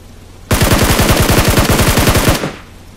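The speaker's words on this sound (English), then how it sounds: "You shoot the people on your side, we shoot the people on our side." Sustained automatic gunfire in the PUBG battle royale game: a rapid, loud burst of evenly spaced shots lasting about two seconds, close and alone with no talk, then cutting off.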